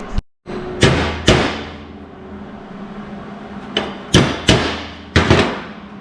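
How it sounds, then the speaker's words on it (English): Sharp metallic hammer blows on car body sheet metal, a pair of quick strikes, a pause, then several more, each ringing briefly before fading. "grab my hammer."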